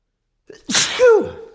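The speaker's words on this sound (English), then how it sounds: "I have to sneeze." A single loud, close sneeze bursts out after a short inhale, ending in a brief voiced trailing sound.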